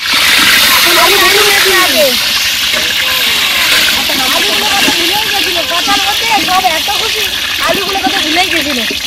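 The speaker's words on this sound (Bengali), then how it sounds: "আমি সব ফোড়ন নিয়ে দিদি তেল দিচ্ছি।" Whole spices hitting hot oil in a heated wok send up a loud, steady sizzle and hiss with spattering crackles, while voices talk over it at close range.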